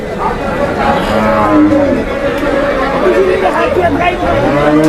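Cattle at a busy cattle market in Hazratpur low and moo in long drawn tones beneath steady crowd chatter, with several people talking nearby.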